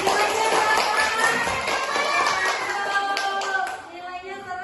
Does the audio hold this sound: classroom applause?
yes